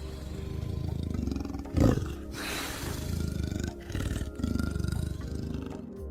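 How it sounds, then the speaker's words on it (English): A leopard gives a loud, rough roar, a rasping burst near the start followed by deep sawing grunts that carry on throughout, close and alone with no talk. "Leopard."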